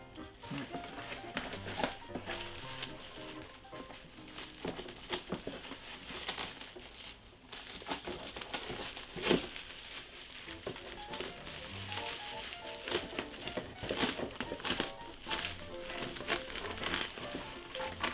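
Disney merchandise packaging being cut open and unwrapped, with close, continuous crinkling and crumpling of plastic and paper and occasional tearing, fairly quiet.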